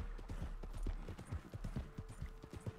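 Two riders share a horse in a video game, and its hooves beat out a steady, quick clip-clop rhythm. The hoofbeats are quiet and even, with only a faint murmur behind them.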